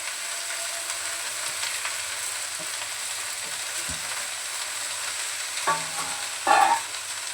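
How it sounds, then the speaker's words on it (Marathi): Spring onion greens sautéing in hot oil with cumin, a steady even sizzle throughout, with a couple of soft stirring clinks near the end. "आणि कांद्याची पात थोडी परतून घेते."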